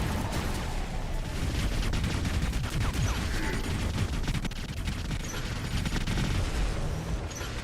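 Continuous, dense gunfire from War Robots, a game of battling robots, with rapid overlapping shots and booms forming a loud, unbroken barrage for several seconds.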